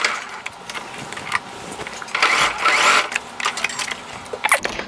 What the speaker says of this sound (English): So while you stitch, just follow the shape of your collar very nicely